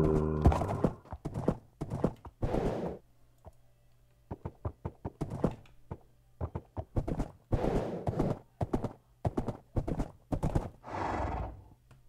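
A horse in Minecraft gives repeated short whinnies and snorts mixed with hollow clip-clop and knocking thuds, arriving in uneven bursts separated by brief quiet gaps.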